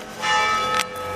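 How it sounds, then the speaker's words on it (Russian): Church bells strike the hour in a town in southern Spain, one broad metallic peal swelling and ringing on with a second stroke near the end, heard outdoors in cold wind at moderate distance. "Видите, у нас каждый час колокола бьют."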